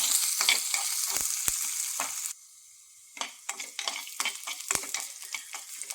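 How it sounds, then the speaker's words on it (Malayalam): Chopped onion and chili frying in a pan for a sweet potato leaf stir-fry, a bright sizzle broken by sharp spatula scrapes and knocks, briefly dropping away before stirring resumes with rhythmic clatter. "അരിഞ്ഞു വെച്ചിരിക്കുന്ന ഉള്ളിയും മുളകും ചേർത്ത് കൊടുക്കാം ഇനി നമുക്ക് ഇളക്കി കൊടുക്കാം"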